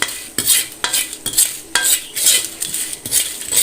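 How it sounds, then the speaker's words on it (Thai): Dried chillies roasting in a little oil while being stirred constantly, a metal utensil scraping and clinking against the pan in quick repeated strokes, close and clear with a faint sizzle underneath. "เราจะทำการคั่วแค่พริกแห้งนะครับ เราจะคนตลอดเวลานะครับ"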